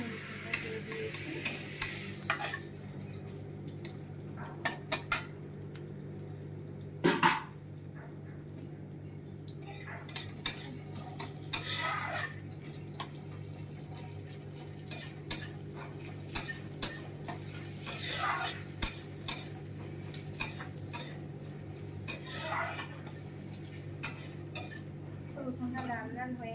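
Garlic frying in a pan for chili chicken, with a metal spoon repeatedly scraping and clinking against the pan over a steady low sizzle; scattered clatters and brief speech break in now and then.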